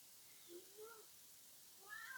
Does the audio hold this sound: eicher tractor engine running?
no